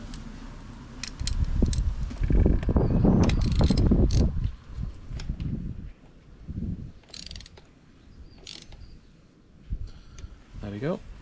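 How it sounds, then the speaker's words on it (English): A socket wrench ratchets as it tightens a spark plug on a Honda BF 75–100 outboard, a run of close, loud clicking bursts followed by quieter handling sounds, with someone speaking. "we'll put the socket on and we'll nip it right up"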